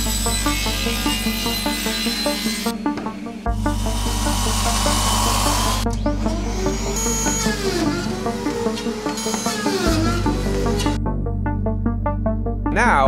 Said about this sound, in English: Now I'm going to use the track saw to miter a 45-degree angle on these two pieces